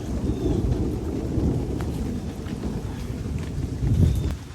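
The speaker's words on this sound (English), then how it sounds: "pouring down rain, there's a thunderstorm going on" A thunderstorm with pouring rain: steady heavy rain hiss and low rumbling thunder swelling near the end, with wind buffeting the microphone outdoors.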